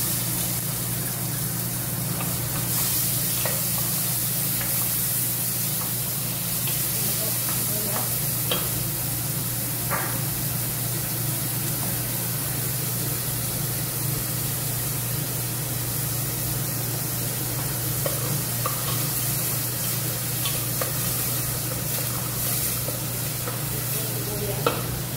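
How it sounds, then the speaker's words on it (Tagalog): Onions sizzling in a little hot oil for koshari, a steady, dense hiss that holds even and loud throughout, with a few faint clicks and no voices. "Ilalagay natin ang sibuyas."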